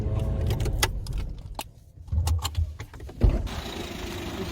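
Car keys jangle up close in a scatter of short metallic clinks and rattles, with the low hum of a vehicle interior underneath.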